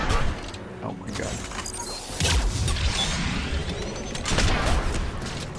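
Collector sniper rifle fire in a Mass Effect-style shooter game, several sharp loud shots and impacts with crashing bursts amid dense game action noise, with voices talking over it.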